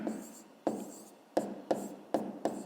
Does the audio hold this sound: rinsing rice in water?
no